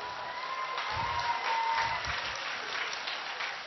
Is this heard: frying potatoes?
no